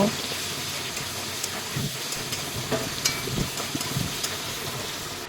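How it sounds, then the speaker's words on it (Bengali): Chopped potatoes frying in hot oil, a dense continuous sizzle and hiss close up, with occasional stirring scrapes across the pan. "আলুগুলো ভালো করে ভেজে নেব"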